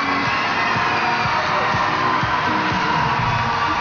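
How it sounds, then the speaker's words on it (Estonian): A crowd of spectators cheering and whooping at a Latin American dance championship in support of one dancing couple, a steady, dense wall of shouts and cheers with no break. "Vaieldamatult kuulus publiku toetus just nimelt sellele paarile, mida võite ka taustast kuulda"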